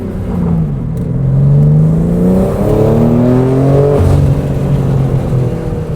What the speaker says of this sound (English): Your exhaust sounds really good.